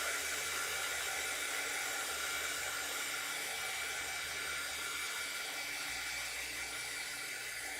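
Hair dryer blowing steadily over a watercolor painting, a constant airy whoosh with a low motor hum that stays even and fairly quiet throughout.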